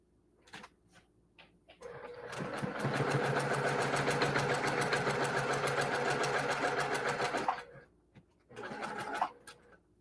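A sewing machine stitches a quarter-inch seam on a quilt block for a sampler quilt. A few short bursts come first, then a steady run of about five seconds, then one more brief burst, all close and fairly loud with no talk.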